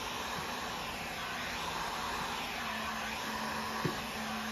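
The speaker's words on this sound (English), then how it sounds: "You don't want the heat gun staying on it too long" A heat gun blows steadily while shrinking window tint film on a 2006 Subaru, making a constant airy whir with a faint hum and one small click near the end.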